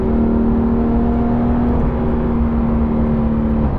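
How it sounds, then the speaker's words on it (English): A Porsche 911 GT3 Touring engine hums steadily and loudly on a winding road, a continuous close drone held at constant revs with no talk over it. "Oh, listen to that engine though."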